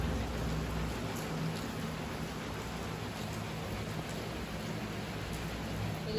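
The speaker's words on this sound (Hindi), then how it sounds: "काफ़ी तेज बरसात, मौसम काफ़ी ठंडा हो गया है" Heavy rain pours down on a cold evening, a thick unbroken roar that stays even and loud throughout, with no talking over it.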